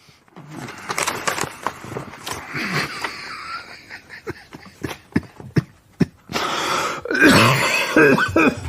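A man coughs and clears his throat repeatedly while lying in bed, a run of harsh, irregular bursts up close, with a rougher, wheezing stretch toward the end.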